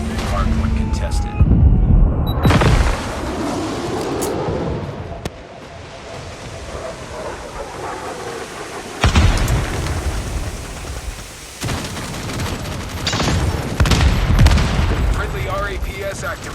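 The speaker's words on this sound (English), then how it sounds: "Friendly napalm deployed." Napalm strike explosions rumble and roar in Call of Duty Mobile, loud continuous booming and crackling fire bursts swelling and cutting in several waves over game noise.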